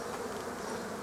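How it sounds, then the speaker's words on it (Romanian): Honeybees hum steadily around a hive in an apiary on a mild spring day in Bacău, a continuous, even drone close by. "când Albina se mișcă"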